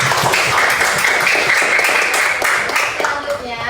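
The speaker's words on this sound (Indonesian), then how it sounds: "mari kita semua beri tepuk tangan dulu" Primary school children in a classroom clapping together, a close, lively burst of uneven hand claps that fades toward the end, with voices mixed in.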